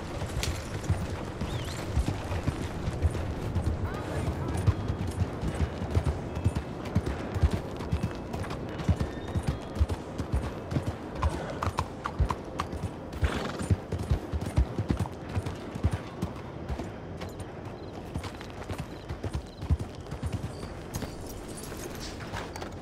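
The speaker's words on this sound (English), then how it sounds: "¡Arre, caballo!" A horse gallops in Red Dead Redemption 2, rapid rhythmic hoofbeats pounding steadily throughout, with a few short spoken words and other game sounds layered over the drumming.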